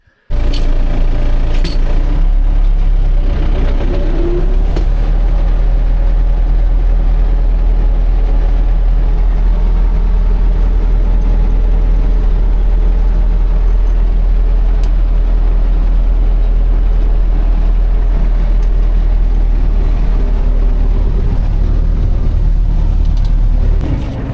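A farm tractor's diesel engine runs loud and close with a deep, steady rumble, heard from inside the cab as it pulls off to harrow a field ahead of corn planting.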